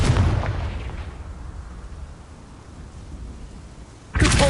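Confringo spell in Hogwarts Legacy bursting as a loud booming explosion that opens strongly and rumbles away over several seconds, followed by another sharp blast right at the end.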